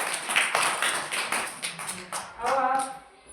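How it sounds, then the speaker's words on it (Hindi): Young children in a classroom clap together in a quick, uneven burst of sharp slaps that thins out, with a bit of voice mixed in near the end. "तालियां बजाओ।"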